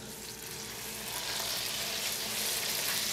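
Steak searing in olive oil in a hot pan, a steady loud sizzle and crackle that swells slightly after the first second and holds to the end with no talking.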